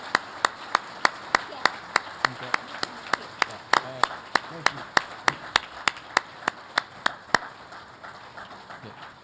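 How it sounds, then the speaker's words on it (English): Sparse, evenly spaced claps from a small audience greeting honorees at a 40th anniversary gala, sharp and fairly close, with talk running underneath and a brief spoken thanks. "if we can please give them all both a big round of applause"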